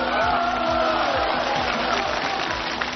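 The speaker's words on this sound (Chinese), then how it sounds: "别起哄，别起哄哈" A TV studio audience at a 2011 Chinese variety game show cheers, claps and heckles in a dense, continuous crowd roar that stays loud and steady throughout.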